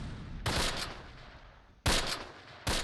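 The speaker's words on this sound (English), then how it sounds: "it looks like they are shooting at us, even though we have the smoke screen" Enemy gunfire in the Close Combat wartime tactics game, three sharp loud bursts of shots separated by gaps, each decaying into a hissy tail, with no talking.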